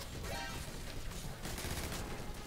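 Rapid video game gunfire rattles in a dense, unbroken stream of shots, fairly faint and steady throughout the short burst.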